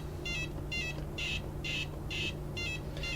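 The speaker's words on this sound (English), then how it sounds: "you hear different sound effects as I chomp each dot. You hear a chomp, chomp, chomp." Tabletop Pac-Man arcade game from 1981 chomping dots, a steady run of short electronic warbling blips repeating about twice per second over a low hum, moderately loud and alone.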